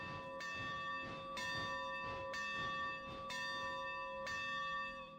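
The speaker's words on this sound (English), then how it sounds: "Railroad bells are very loud, but that one's seems exceptionally loud." A very loud railroad locomotive bell rings in the RailRoader train game, fitted with a WNCRR bell replacement modeled on Southern 662. It strikes steadily about once a second and rings out on its own.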